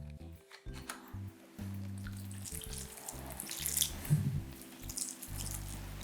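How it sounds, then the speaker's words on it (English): White wine is splashed and poured over bread stuffing for Thanksgiving, close wet pouring and squishing sounds with a few bursts of liquid, alone and fairly loud in a kitchen. "a splash of white wine"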